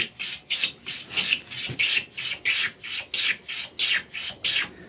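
A buck mitre plane with a freshly nibbed, hurriedly sharpened iron cuts wood in about ten regular rasping strokes, each a bright swish, steady and close with no talking.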